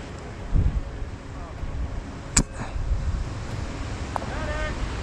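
Steady wind on a hill roars across the microphone in a continuous broadband rush, with a sharp crack partway through and faint distant sounds underneath.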